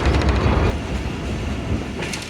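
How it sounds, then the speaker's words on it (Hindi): A Pakistani passenger train, the Shalimar Express on the Lahore to Sukkur run, rumbles loudly along the rails with rhythmic clickety-clack from its wheels throughout. "सामने से एक और ट्रेन नमूदार हो चुकी है"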